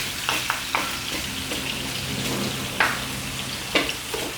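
Lamb pieces frying in their fat in a pot on a gas burner, a steady close sizzle with occasional louder pops and crackles, no voices.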